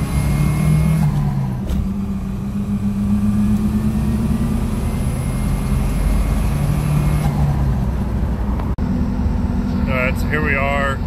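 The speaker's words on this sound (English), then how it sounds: "Alright, that's laying into the throttle." A 1986 turbocharged Toyota truck with a 22R-TE engine and CT26 turbo pulls away under throttle, a loud, steady low engine drone from inside the cab that holds through most of the stretch, with a brief click near the end.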